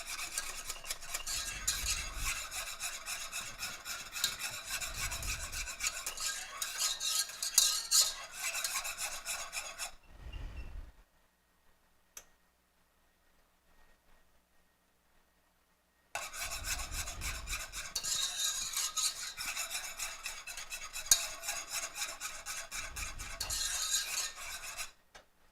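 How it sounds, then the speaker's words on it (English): A spoon stirs a boiling coconut cookie bar mixture in a pot, scraping and rubbing steadily at close range in two long stretches separated by several seconds of near silence. "Just a gentle rolling boil is what it is. And we're keeping it stirring so it doesn't burn."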